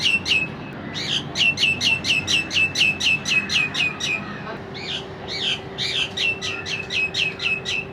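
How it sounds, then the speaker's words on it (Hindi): A myna bird chirps near a kitchen in rapid, repeated bright calls, fairly close and clear, with a steady low hum underneath. "मुझे लग रहा है मैना भी मेरे किचन के साइड में ना कहानी सुन रही थी"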